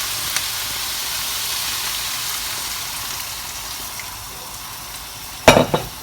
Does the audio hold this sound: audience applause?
no